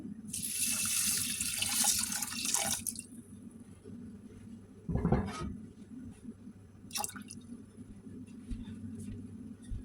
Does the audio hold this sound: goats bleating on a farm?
no